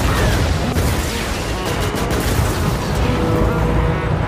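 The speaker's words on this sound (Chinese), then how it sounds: "无数核弹齐刷刷地砸向舰体，不等众人反应过来，就已引发剧烈的爆炸。" Nuclear bombs strike a warship in a sci-fi film battle, a dense, continuous roar of explosions and rumbling blasts filling the scene without a break.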